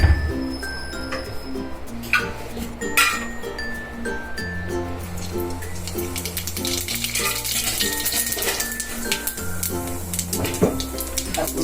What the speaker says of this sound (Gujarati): તો આપણું તેલ ઓલમોસ્ટ આવી ગયું છે. તો આપણે નાખીશું એમાં જીરું